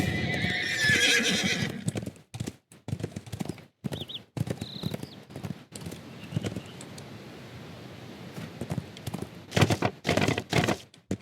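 A horse mount in the online game DDO neighs and whinnies loudly, then hooves clip-clop in bursts with a few thunks and short gaps between, close and clear.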